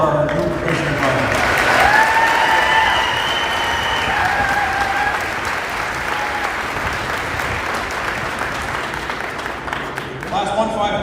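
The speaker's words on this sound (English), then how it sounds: "How about another round of applause for our new Commissioner Brother?" Audience applause fills a graduation ceremony for a police recruit class, loud and steady for most of the stretch, with a few shouts and whistles early on before it tapers near the end.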